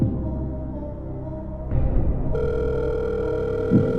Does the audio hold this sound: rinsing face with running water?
no